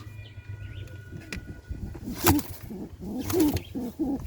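Capuchin pigeons in a Jamaican breeding loft give a few low, soft coos at close range over faint background noise.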